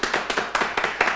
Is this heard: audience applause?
yes